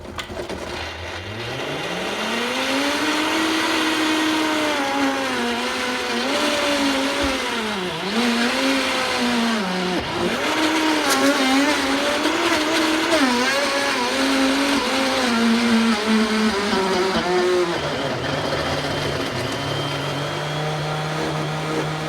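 A Vitamix blender motor grinds through a hard, thick dessert mix, a loud sustained whine whose pitch climbs, dips and wavers as the load shifts, running continuously close up.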